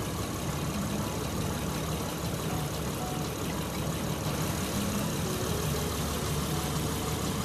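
A Honda Elysion Prestige with a 3500cc V6 idles in a steady, even hum with a broad wash of noise. No voices are heard over it.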